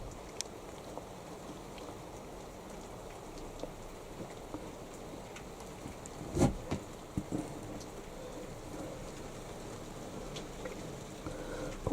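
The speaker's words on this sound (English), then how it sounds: "The rain is now coming down persistently." Steady rain falls persistently in a back garden near a potting shed, a soft continuous patter with scattered closer drips and one brief louder burst partway through, no voices.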